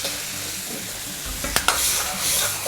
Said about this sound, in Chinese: 翻炒一下，快速的翻炒一下